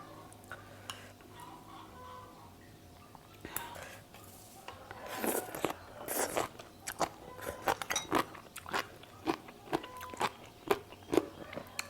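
Close, crisp crunching and wet chewing of a spicy Vietnamese tiger-stripe jellyfish salad, irregular bites growing louder and denser after a quieter start, with faint background murmur.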